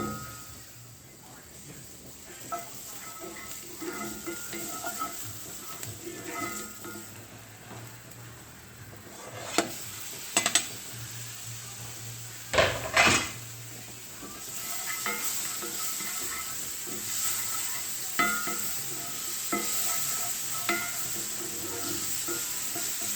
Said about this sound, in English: we're gonna saute some onions for about 2 to 3 minutes until nicely wilted